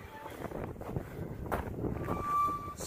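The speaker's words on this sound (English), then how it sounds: "So it is so breezy and blustery today." Blustery wind gusts across an outdoor spot on a breezy day, buffeting the microphone with uneven rushing noise and a few faint background tones.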